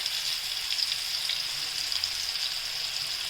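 Tiger prawns on sticks frying in coconut oil in a pan, Kerala style, giving a steady, close, even sizzle and crackle throughout with no speech.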